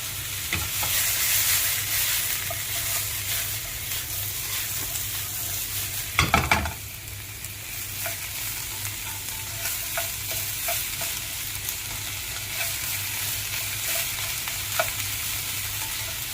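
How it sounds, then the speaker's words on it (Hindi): Vegetables sautéing in a pan beside grilled chicken, a steady bright sizzle throughout with occasional scraping stirs and one louder clatter of the utensil against the pan, close and without talk. "बस इसको 1 से 2 मिनट तक हल्का सा इसको सौटे करना है"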